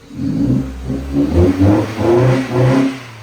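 A Mini Cooper engine revs up and down in several surges, loud and close, with a rough mid-pitched drone and no talking.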